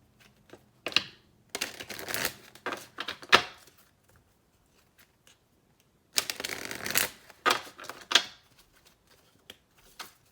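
A deck of oracle cards is shuffled by hand in two bursts of rapid, crisp riffling and flicking, close and clear with short pauses and a final tap between them.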